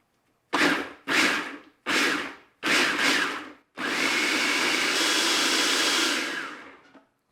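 A food processor pulses persimmons into puree: four short, loud whirring bursts with brief pauses, then one longer continuous run of about three seconds before stopping.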